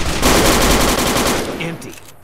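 Rapid machine-gun fire in the Fallout: New Vegas video game, a loud close burst of repeated shots that fades into a short tail, with no talking.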